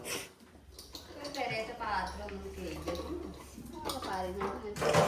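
Pots and dishes being washed at a home kitchen sink: close clinks and clatters of metal and crockery, with people talking over them throughout.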